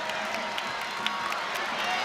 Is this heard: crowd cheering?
yes